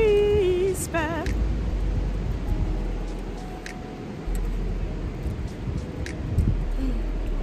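Steady rain falls at a beach as a broad continuous hiss with low rumbling underneath, fairly close and constant throughout, with a brief voice-like tone at the start.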